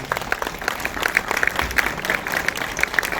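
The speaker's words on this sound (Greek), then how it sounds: "ένα πολύ μεγάλο χειροκρότημα από εσάς" A crowd at a memorial event applauds the musicians, lyre players who just performed. Lively, continuous clapping with individual sharp claps standing out from the dense mass.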